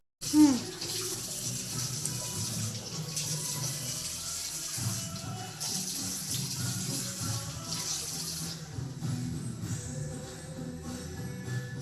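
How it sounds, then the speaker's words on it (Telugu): Running water splashes steadily as a face is washed by hand, a continuous broadband wash of tap flow with brief splashes, close and fairly loud throughout with no talking. "ఇప్పుడైతే ఫేస్ అయితే వాష్ చేసుకుందాం"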